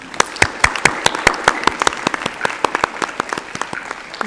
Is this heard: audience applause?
yes